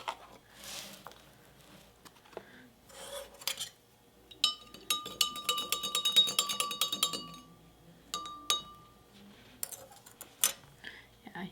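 A spoon clinks and rattles against a glass cup in bursts while stirring sugar into cold water, with quiet pauses between rounds of stirring; light tapping continues near the end.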